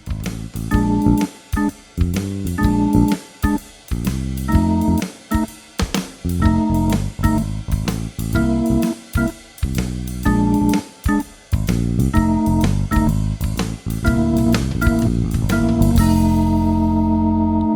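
A twelve-bar blues played on piano with bass and drums joined in, a steady rhythmic groove of chords and walking bass running loud and continuous before ending on a sustained final chord.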